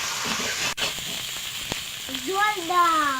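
Ginger and chilli paste with garlic sizzles in hot oil in a pan over previously fried onion, a steady close frying hiss with a sharp clack early on, while a voice starts speaking near the end.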